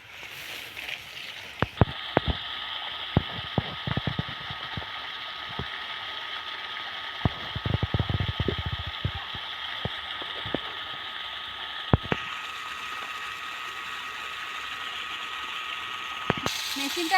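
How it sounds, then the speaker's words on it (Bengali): A water pump machine set in a small pond to drain it gives off a steady motor drone, broken by irregular mechanical clicks and rattles throughout. "মেশিনটা আগে থেকে তোমাদের দাদা বসিয়ে দিয়েছে, জল বেরোচ্ছে দেখুন।"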